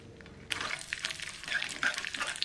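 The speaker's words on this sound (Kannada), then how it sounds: "ಈಗ ಒಣಮೆಣಸು ಹಾಗೆ ಕರಿಬೇವು ಎಲೆಯನ್ನು ಹಾಕ್ತೀನಿ. ಸ್ವಲ್ಪ ಫ್ರೈ ಆಗಲಿ." Mustard seeds, dried red chilli and curry leaves crackle in hot coconut oil for a tomato chutney tempering, a steady close sizzle with sharp popping spatters scattered throughout, starting abruptly after a quiet moment.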